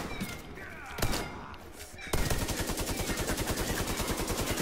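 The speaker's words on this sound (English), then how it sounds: "Where's this motherfucker at that's shooting us?" Gunfire in Tom Clancy's The Division 2: a few scattered shots and thuds at first, then a sustained rapid automatic burst, loud and close, with regular pulses.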